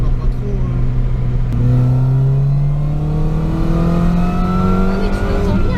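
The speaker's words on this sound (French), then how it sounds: "t'as le son particulier du compresseur" A supercharged Mini Cooper R53 accelerating hard, its engine note climbing steadily with a thin supercharger whine rising alongside, loud and close throughout as the revs build.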